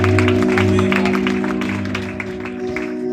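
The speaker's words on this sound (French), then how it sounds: "Est-ce que nous pouvons applaudir le Seigneur pour cela?" A French-speaking church congregation applauds during a Sunday worship service. Dense clapping rises over sustained keyboard chords and gradually softens toward the end.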